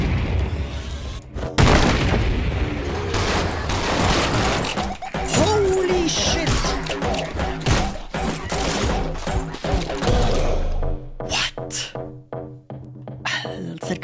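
Loud explosions and gunfire bursts in the video game Anger Foot crash through a dense, chaotic mix, with a voice talking over the action.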